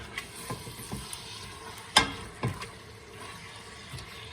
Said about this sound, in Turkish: Şimdi etimi şöyle bir güzel karıştırıyorum.